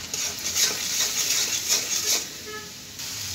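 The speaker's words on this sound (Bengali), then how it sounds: "ভালো করে কষিয়ে নিচ্ছি।" Spiced paste being stirred and fried in a pan while cooking beef tripe bhuna, with continuous scraping and rubbing strokes and a soft sizzle, close and alone.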